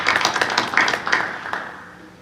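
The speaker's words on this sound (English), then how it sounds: "Give them a nice round of applause." A short burst of audience applause at a school board meeting honoring newly certified teachers, scattered claps that quickly thin out and fade.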